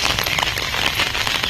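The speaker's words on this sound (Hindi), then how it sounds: "ବର୍ଷା ଛାଡ଼ିନି, ଧୀରେ ଧୀରେ ଧୀରେ ଧୀରେ ପାଣି ଗଡ଼ିବ।" Heavy monsoon rain pours down close by in a loud, continuous wash of splashing drops, with dense crackling patter on surfaces and no pauses.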